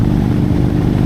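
Throaty, loud engine of a trike motorcycle fitted with a bigger cam, revving on the throttle in a short continuous burst.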